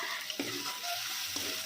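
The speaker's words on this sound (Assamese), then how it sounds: "ধুনীয়াকৈ মিক্স কৰি মই ভাজি থাকিম যাতে তলত লাগি নাযায়।" Taro leaves fry in a pan while being stirred: a steady, close sizzle with two sharper scraping strokes of the stirring utensil.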